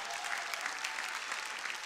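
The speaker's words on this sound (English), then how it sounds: "can we give Jesus a hand clap of praise today?" Church congregation giving a hand clap of praise, a continuous, fairly faint wash of many people applauding together, steady and unbroken for a couple of seconds.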